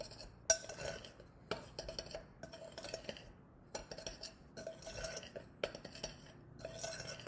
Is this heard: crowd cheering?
no